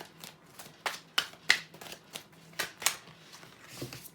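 Tarot cards being shuffled by hand, a series of crisp riffling bursts in a loose, uneven rhythm, close and fairly loud with no talking.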